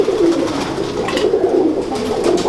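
Lal Pari pigeons coo softly and continuously up close, their low burbling calls overlapping with no other sounds.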